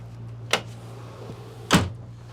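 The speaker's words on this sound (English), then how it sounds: "the side door I'm going to close" Two short knocks of a boat's side door being moved and shut on a Jeanneau Merry Fisher 895 Series 2, the second heavier, over a low, constant engine drone.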